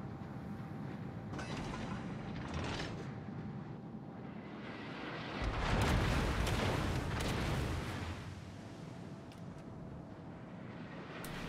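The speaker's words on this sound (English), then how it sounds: "And at this stage, I start shooting at the Albemarle." Naval guns in a World of Warships-style game boom in a fairly quiet mix. Scattered muffled reports are topped by a heavier rumbling barrage swelling near the middle, then fading back to a low background.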